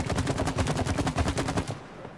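Rapid automatic gunfire from the video game It Takes Two, a steady rattling burst of evenly spaced shots lasting nearly two seconds before cutting off, loud and close with no talk over it.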